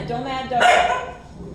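A dog gives a short, sharp bark-like yelp amid a busy indoor scene, with a person talking over it before and after.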